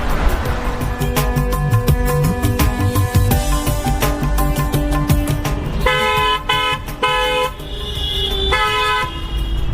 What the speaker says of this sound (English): We are back to the symphony of honking horns back in the city.